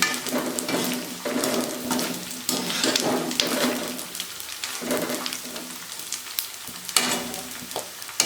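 Pieces of edible gum crackle and sizzle as they fry in hot ghee, broken by rhythmic scraping stirs against the pan. The sizzle is loud and steady, and nobody speaks.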